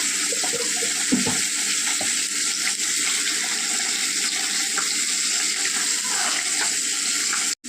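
Shrimp and bitter gourd chachchari cooking with chilli powder, turmeric and a splash of water, producing a loud, continuous watery hiss with occasional scraping stirs that ends abruptly.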